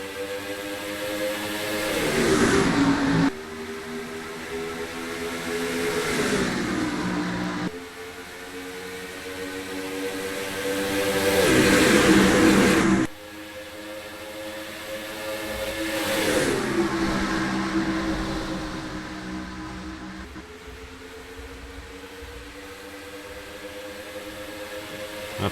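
Stock car engines in the NASCAR Racing 2003 game at the start of a race at Atlanta Motor Speedway, rising and falling in repeated revving sweeps with abrupt gear-change cuts, loud and sustained.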